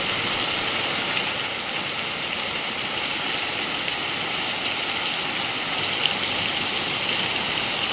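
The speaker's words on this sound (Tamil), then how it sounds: "திருத்துறைப்பூண்டி நகர் பகுதியில் இன்று திடீரென கருமேகங்கள் சூழ்ந்து மழை பெய்தது" Steady rain pours over the town of Thiruthuraipoondi as dark clouds gather, a dense even hiss of falling water holding at a constant close level throughout with no voices.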